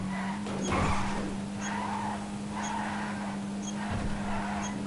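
A Toyota Hilux Vigo in GTA 5 driving tilted on two wheels, a steady engine hum with a low drone and soft repeating tire scrubs, fairly quiet and without talk.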